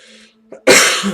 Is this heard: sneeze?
yes